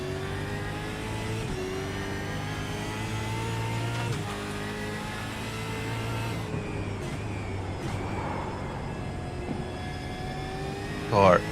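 Supercar engine revving in a racing video game, a steady droning roar with shifting harmonic pitch that holds throughout, rising and falling as the car accelerates, with voices talking over it.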